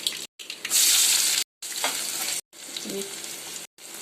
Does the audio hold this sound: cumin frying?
yes